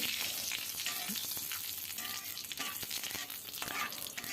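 Panch phoron, bay leaf and a dried chili sizzle in hot oil, a soft continuous hiss with light crackles and spoon scrapes, heard close and fairly quiet with no talking.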